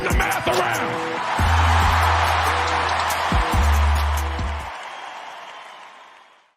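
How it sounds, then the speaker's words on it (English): Warm applause and crowd noise welcome the start of a wrestling talk show, loud and steady, under a deep hum and a few thumps, then fading out toward the end. "that warm applause welcomes us into another edition of Pollock and Thurston"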